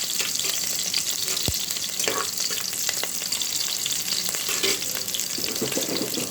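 Sliced onions frying in hot oil in a pan for biryani, a steady, loud broadband sizzle running throughout with one brief clink partway, and no voices.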